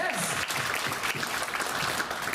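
A comedy club audience claps and cheers loudly and continuously for a couple of seconds, a dense crowd applause filling the room.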